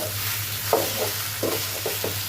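Pieces of crab fry with a steady sizzle in a pan, and a spatula scrapes and stirs them several times at close range over a constant low hum, with no talking.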